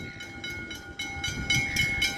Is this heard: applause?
no